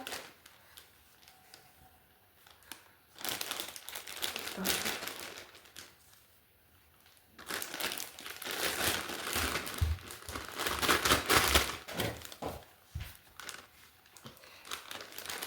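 Plastic zip bag crinkles and rustles in bursts as it is handled and filled with mince, with quieter pauses and occasional talk.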